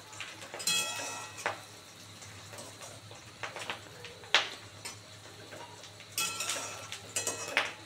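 Food frying crisp in a pan on a low gas flame for a home recipe, a faint steady sizzle with occasional clinks and scrapes of utensils against the pan.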